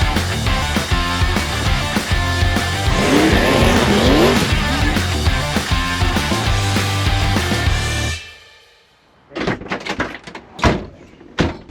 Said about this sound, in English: now we're going to go for a test drive in that stunning 1967 Chevrolet Chevelle convertible